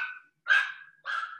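A dog barks three times in close succession, loud and near, each bark sharp with a slight whine trailing off, with brief silent gaps between them.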